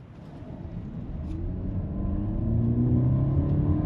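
A 2025 Mercedes-Benz GLE 450e plug-in hybrid 4MATIC SUV accelerates in hybrid mode, its engine hum rising steadily in pitch and loudness over a few seconds, heard from inside the cabin with no talking.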